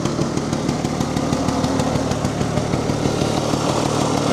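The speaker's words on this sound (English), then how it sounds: "And it has that cool two-stroke putt, putt, putt, putt, putt." A 1968 Vespa 150 Sprint scooter's two-stroke engine idles steadily up close, a rapid, even putt-putt chatter that holds at a constant loud level.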